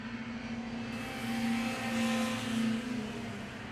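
A racing hovercraft engine drones past at the World Hovercraft Championship, a steady tonal whine that swells and eases as the craft goes by at moderate distance, with no voices over it.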